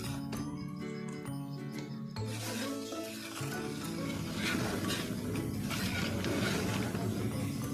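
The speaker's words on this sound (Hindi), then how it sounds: "इसका चम्मच चलाते रहना" A spoon stirs sweetened custard in a pot on the stove, with repeated scraping and rubbing strokes against the metal over a low simmering background.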